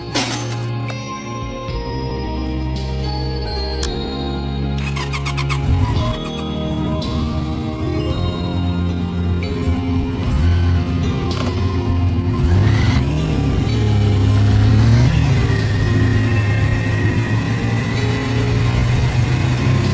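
A restored 1997 Honda CB400 four-cylinder motorcycle engine runs steadily and loudly up close, a continuous smooth idle with a few rising revs, and no talking.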